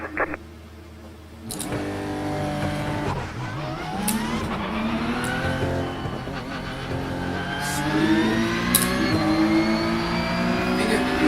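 A GT3 race car laps a circuit in the iRacing sim, its engine revving up through the gears in rising whines broken by sharp shifts, loud and close, with brief tyre noise and no talk.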